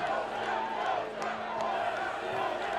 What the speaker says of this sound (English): And now there is more chanting for Russia.